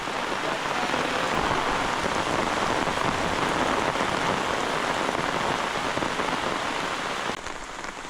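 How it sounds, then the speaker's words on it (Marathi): A heavy downpour drums steadily and loudly on surfaces close by, a dense, unbroken hiss of rain that fills the whole stretch with no voices. "पावसानं आज जोरच केला ना"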